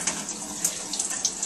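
Warm water runs steadily from a tap during a skin-cleansing demonstration with a facial cleansing device, a continuous close hiss and splash with no voices.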